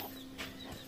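A pet chicken gives a short cluck against steady background hum, brief and close by.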